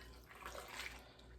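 Warm tap water pours steadily into a mixing bowl, a soft continuous splashing rush heard up close and fairly quiet, with no talking.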